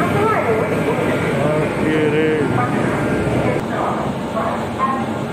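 Station bustle on an Indian railway platform where a train stands at platform six, a steady rumble and murmur of crowd and engines throughout, with voices talking over it.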